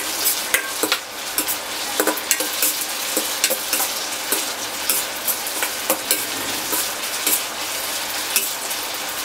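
Tomatoes fry in a pan with a steady hissing sizzle, broken by repeated clinks and scrapes from a spoon stirring at an uneven rhythm, close up and with no voices.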